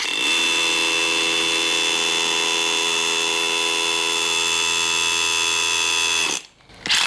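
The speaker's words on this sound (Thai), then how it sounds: "เดี๋ยวผมจะลองเจาะให้ดูเลย" Stanley Fatmax SDS Plus 5 mm coarse-spiral bit bores into solid concrete with a loud, steady hammer-drill whine that runs unbroken for about six seconds, then cuts off abruptly before briefly starting again.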